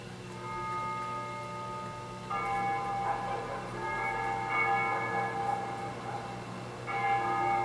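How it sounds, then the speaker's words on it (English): Church bells ring at dusk over a liberated capital in Ace Combat Zero, sustained tolls layering and renewing in waves, moderately distant and steady, with no talk. "They ring the bells here at dusk to honor the liberation of the capital."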